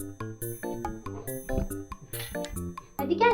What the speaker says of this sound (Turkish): Aa, kapı çalıyor.